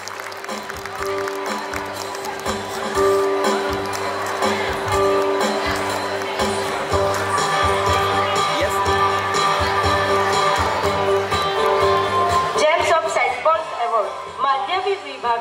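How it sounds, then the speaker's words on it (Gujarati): A crowd gives sustained, loud applause for award-winning students at St. Paul's School annual day in Koyali, Vadodara, as a steady wash of clapping fills about fifteen seconds over a tonal background, thinning into separate claps near the end. "જોરદાર તાળીઓ."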